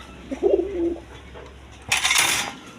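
Rajgolla pigeons cooing in a short low burst near the start, followed by a brief rustle or flutter of wings and movement; no talk.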